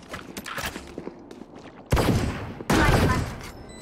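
Gunfire in the tactical shooter Valorant, two loud broadband bursts of shots standing out over lighter clicks, footstep-like thuds and softer game noise.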